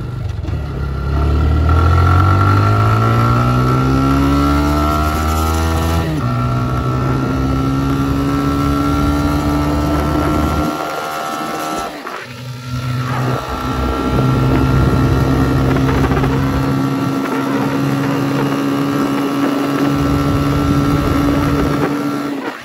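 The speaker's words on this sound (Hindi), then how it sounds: "अभी हम आपको दिखाएंगे इसकी कुछ टॉप स्पीड की तो जो लिमिट होती है उसको दिखाने की कोशिश करेंगे" A TVS Raider 125cc motorcycle accelerates hard toward top speed, its engine whine rising through several gears with short dips at each shift, loud and close under heavy wind rush.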